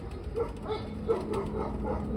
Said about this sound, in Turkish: Dün ya arkaya yeni bir dişi geldi köpek. Kangal.